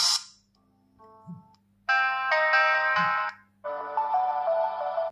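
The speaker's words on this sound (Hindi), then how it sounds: "ये जो म्यूजिक है प्ले हो रहा है वॉच में" Melodic ringtone-style music plays from the small speaker of an Ambrane Wise Glaze smartwatch, coming in bright bursts with short pauses between phrases and a faint low hum underneath, with no talking.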